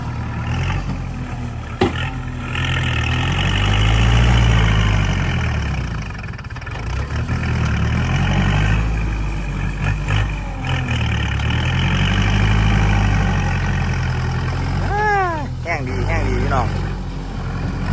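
A Kubota tractor engine idles with a steady low diesel rumble while someone talks over it nearby, and a few higher whining tones appear near the end.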